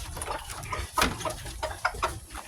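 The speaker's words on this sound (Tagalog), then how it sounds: "Kumakain na natin manok guys." Chickens, alongside ducks and pigs at feeding time, eating feed, with soft clucks and pecking taps close by over a low farmyard background, quiet and irregular.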